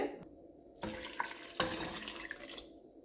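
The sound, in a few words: pouring water into pot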